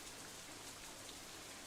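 Steady, dense downpour of rain in the Katawa Shoujo visual novel, a continuous hiss of drops striking surfaces with no voices, even and unbroken throughout.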